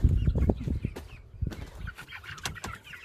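Chickens, mostly hens, clucking inside a coop, close and fairly loud, with overlapping short clucks and low murmurs, a few wing flutters and scratching sounds, and no one talking.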